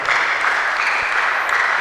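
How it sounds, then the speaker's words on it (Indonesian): A seated audience at a discussion gathering gives a short burst of loud, close, continuous clapping that holds steady throughout. "Tepuk tangan dulu, itu luar biasa."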